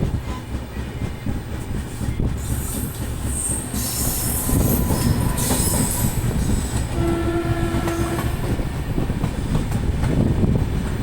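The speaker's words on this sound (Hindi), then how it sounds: "कोई तो ट्रेन आ रही है।" A passenger express train on an Indian railway approaches and passes close by, a loud continuous rumble of wheels with high metallic squeals and a brief horn tone, building in intensity over the whole stretch.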